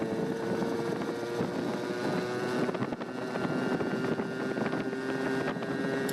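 A Yamaha Towny MJ50 moped fitted with a Malossi top end and a VM20 carburetor runs at full throttle on a highway, giving a steady, loud, high buzzing drone with heavy wind noise throughout.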